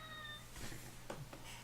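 A cat meows briefly, a short vocal call standing out over a low steady hum and background noise, with a second softer sound shortly after.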